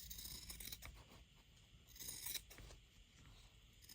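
Scissors trimming away bulk from freshly sewn fabric, a few quiet close snips and crisp cutting rustles, faint and alone.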